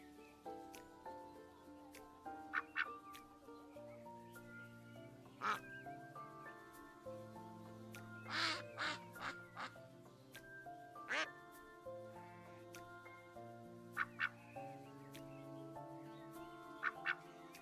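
Cartoonish duck quacks from the video game Lil Guardsman, several different duck voices giving short spaced calls over game music and background sounds.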